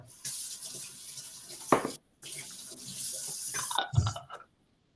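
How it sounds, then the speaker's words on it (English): Hands are rinsed under a running kitchen tap while a green Thai curry is being cooked: two close bursts of splashing water separated by a brief pause, then a short gurgle. "Wash my hand real quick."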